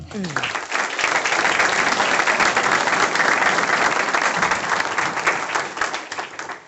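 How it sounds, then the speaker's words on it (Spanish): Audience applause at a talk about phenomena at Cerro Uritorco, a dense, sustained wave of clapping from many people that rises quickly, holds loud and even, then tapers slightly near the end, with a brief voice at the start. "por favor, háganle un aplauso"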